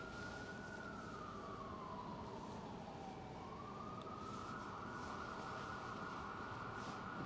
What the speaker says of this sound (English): Uh-oh, more sirens.